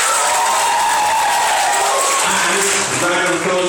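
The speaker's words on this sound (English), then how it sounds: "Round of applause for Angelo." Sustained applause from a school assembly crowd in Bristol after a pupil is called out, broad continuous clapping with a few cheers and voices rising toward the end.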